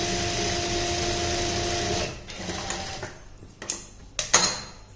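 A sewing machine stitches a pintuck neck design, its needle motor running in a steady fast whir for two seconds before stopping, then brief handling clicks and short bursts follow close by.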